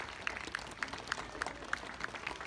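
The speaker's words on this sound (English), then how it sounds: "let's give them a round of applause" At an elementary school rewards assembly, a small audience claps faintly in a light, fairly regular rhythm, with distinct individual claps audible against a quiet room for a couple of seconds.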